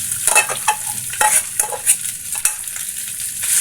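Leftover cold rice being stir-fried in a pot, with loud continuous sizzling and repeated scraping, clattering strokes of a spatula against the metal as the grains are tossed.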